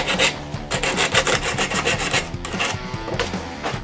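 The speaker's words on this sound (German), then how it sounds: "Ich fange jetzt ein bisschen an zu schleifen." Coarse 80-grit abrasive rasps against an old petroleum lamp during restoration, a loud, steady run of rhythmic back-and-forth rubbing strokes, close and continuous with no talking.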